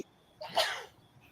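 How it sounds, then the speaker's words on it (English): A single sharp sneeze, close and brief, with a short intake of breath before it in an otherwise quiet room. "I got to sneeze."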